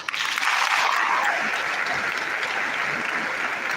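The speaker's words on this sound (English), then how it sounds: "Please keep the applause" A hall full of people applauding at an induction ceremony for newly qualified doctors, dense continuous clapping that swells early and then carries on steadily.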